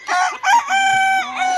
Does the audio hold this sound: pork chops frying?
no